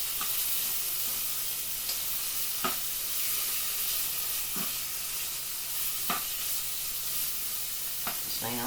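Lamb pieces sizzling and browning in a hot pan for tagine, a steady loud frying hiss with occasional sharp stirring scrapes, close up.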